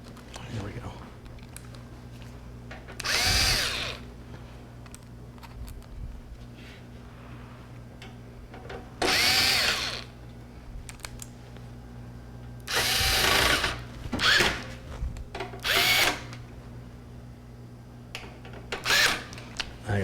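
A power screwdriver whirs in several short bursts while screws are driven during a desktop computer upgrade and repair, fairly close over a low steady hum, with someone talking between the bursts.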